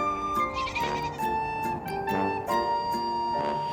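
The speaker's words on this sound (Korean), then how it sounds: "산등성이 염소 4마리는 이 집에서 키우는 가축입니다." Four goats kept as livestock bleat repeatedly on a snowy mountain ridge of a remote Ulleungdo hamlet in winter, several overlapping cries close by and clear, with no talking.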